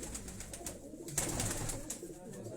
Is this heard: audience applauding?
no